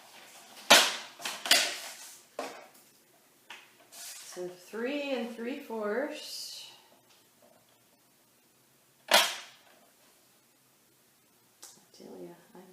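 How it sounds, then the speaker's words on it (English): Patterned paper is chopped for a mini album, giving a few sharp, isolated cutting snaps spaced several seconds apart, with someone talking in between. "I'm just chopping this paper up too"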